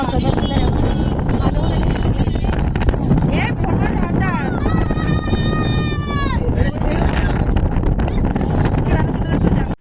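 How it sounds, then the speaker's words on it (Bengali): Loud, roaring wind buffets the microphone aboard a launch boat in the Sundarbans, a steady wash of noise from a storm with driving rain, and a brief high wavering tone rises midway. "বৃষ্টি শুরু হয়ে গিয়েছিল, তার সাথে তো ঝোড়ো হাওয়া, মোটামুটি এক কথায় ঝড় বৃষ্টি শুরু হয়ে গিয়েছিল"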